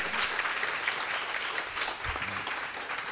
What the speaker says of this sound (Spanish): Un fuerte aplauso, ha venido especialmente para ello.